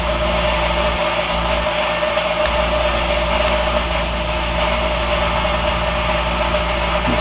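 An engine boring bar machine runs continuously to cut a cylinder bore, a loud, steady mechanical hum with a low drone and faint high whine throughout.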